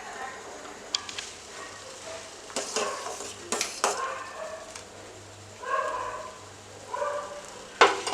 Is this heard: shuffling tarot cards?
no